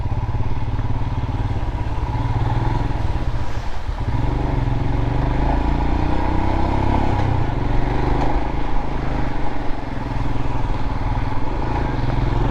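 A Royal Enfield Himalayan motorcycle rides along with a steady, loud engine drone and deep thumping rumble, continuous wind and road noise close to the rider throughout.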